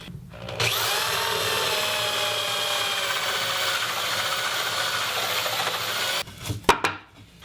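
A power drill bores through a wooden board clamped to a table over a backer board, a steady loud whine for about six seconds before winding down into a few knocks and rattles.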